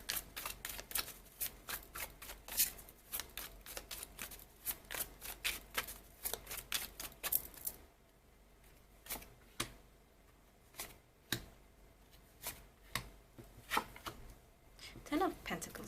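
Tarot cards are shuffled repeatedly up close in quick papery riffles and snaps, with a short lull midway before the shuffling resumes in sharper bursts.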